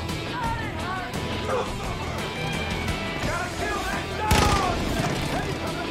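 A dog barks repeatedly in the video game Far Cry 5 amid gunfire and a loud blast, the barks mixed into a busy, loud game soundscape.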